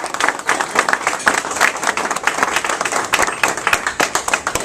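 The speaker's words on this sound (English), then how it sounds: "So give Jack a round of applause for that award." Lunch audience clapping in a round of applause for an award, a moderately sized crowd with distinct individual claps, close and lively, fairly steady throughout.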